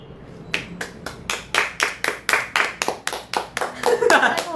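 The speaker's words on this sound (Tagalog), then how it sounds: "Palakpak." Clapping sound effect triggered by a gift during a TikTok live stream, a run of about a dozen crisp, evenly spaced claps close up, with voices chattering faintly underneath toward the end.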